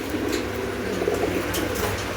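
Racing pigeons and homer pigeons coo in a pigeon market or loft, a soft, steady murmur mixed with a constant broadband background hum throughout.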